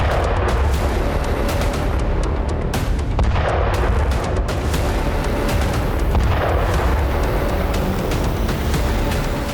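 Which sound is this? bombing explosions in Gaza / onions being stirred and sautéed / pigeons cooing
bombing explosions in Gaza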